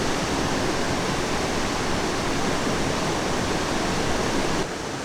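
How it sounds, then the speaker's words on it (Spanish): Steady, dense roar of a waterfall filmed up close, a continuous broadband rush of falling water that stays loud and even throughout with no talk. "aquí si vemos la cascada"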